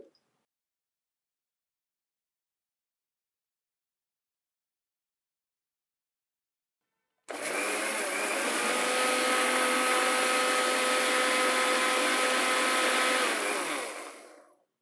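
A kitchen mixer grinder whirs loudly at a steady high pitch as it grinds dosa batter with cumin and ginger, starting abruptly after a long silence and running continuously before winding down.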